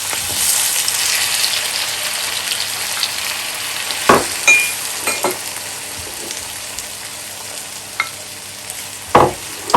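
Tomatoes and spices stirred into a sizzling pan for Cajun chicken pizza topping. A steady frying hiss runs under several scraping, clattering utensil strokes that come in bursts near the end.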